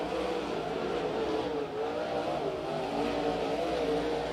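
Sprint cars race around the Stockton Dirt Track on the final laps, engines droning at a distance with a rising and falling whine as they circle, a steady, fairly faint roar with no voices.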